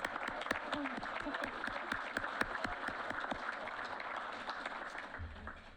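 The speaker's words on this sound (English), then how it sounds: "Let's give it another round of applause." A crowd at the Jet Award 2022 ceremony gives another round of applause, continuous clapping at an even level with some crisp individual claps standing out, held steady to the end with a brief low rumble near the finish.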